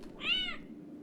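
In the video game Garden Variety Body Horror, a cat lets out a single short meow, fairly close but soft, over a low steady hum, with no talk.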